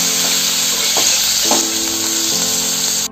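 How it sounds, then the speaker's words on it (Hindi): Cubes of paneer fry in hot oil, producing a loud, dense, continuous sizzle with a few faint clinks of stirring scattered through it, no voices present. "देखिए दोस्तों इस तरह से पनीर को फ्राई करना है ऑयल में।"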